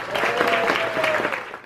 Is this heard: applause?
yes